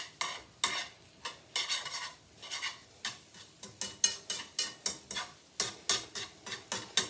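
Spaghetti with anchovies and toasted bread is stirred in a pan, the utensil scraping and clinking in a steady, close rhythm of quick strokes over a soft sizzle, with no talking.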